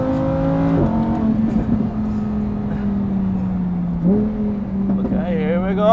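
A Lamborghini Huracan EVO engine revving while driving, its loud tonal roar stepping up and down in pitch through shifts, close and sustained, with a voice exclaiming over it.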